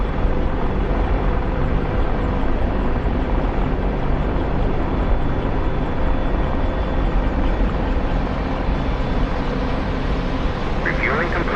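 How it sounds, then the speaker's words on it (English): In DCS, an aircraft's auxiliary power unit runs with a steady, dense whine and rumble that holds at an even level throughout. The aircraft sits with its engines at idle, and a voice talks over the noise. "APU is on."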